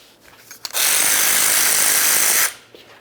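A power tool spins a 14mm socket on a brake caliper slider bolt of a 2010-2013 Nissan Versa, one loud steady burst of about two seconds with a sharp start and stop, amid quiet garage sounds.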